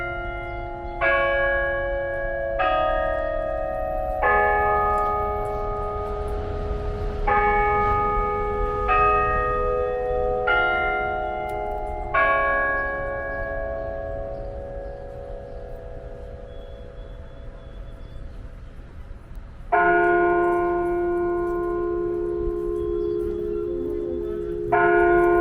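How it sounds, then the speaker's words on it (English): The Delacorte Clock in Central Park, New York, rings its bells at the hour, playing a slow tune of clear, resonant chimes that overlap and fade under a low outdoor rumble. "We made it to the Delacorte Clock exactly at 10 a.m. when the bell rings and the animals play a short song."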